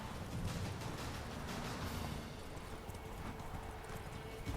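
Roach the horse gallops in The Witcher 3, hooves clip-clopping in a rapid, steady rhythm over a loud rumbling game soundscape.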